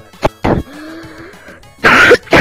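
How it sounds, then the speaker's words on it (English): A boy coughs and clears his throat during an online Black Ops 2 match, two or three short, harsh bursts close to the microphone, with a faint tonal sound between them. "Sounds like you have a bad cough."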